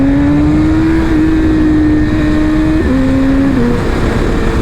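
A BMW S1000RR sportbike engine holds a loud, steady high-revving drone during a wheelie attempt, its pitch shifting slightly up and down with throttle; no voices over it.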